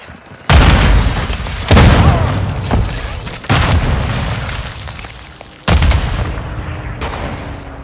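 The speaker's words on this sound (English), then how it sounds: "Throwing grenade!" Grenade and other explosions in Call of Duty: Modern Warfare 2 team deathmatch, four loud booming blasts spaced about a second or two apart, each trailing off into a long rumbling decay, with no talk.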